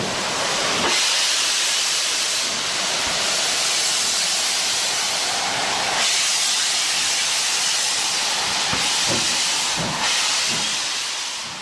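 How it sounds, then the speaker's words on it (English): A Stanier Black 5 steam locomotive releases loud, continuous hissing steam, a dense roaring whoosh broken by a few brief thumps and surges, heard alone and close. "one of the new Stanier mixed traffic engines that were eventually to form the biggest single class of British steam locomotives, the legendary Black 5"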